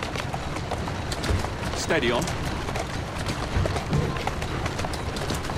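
Horse hooves clop rapidly and steadily at a running pace in the video game Assassin's Creed Syndicate, with a voice speaking briefly over them.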